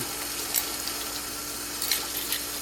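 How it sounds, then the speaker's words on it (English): Running tap water splashes steadily as small Singer Model 337 sewing machine parts are rinsed beneath it, with a few brief clinks and bursts of splashing. No voices are present. "rinse them off good"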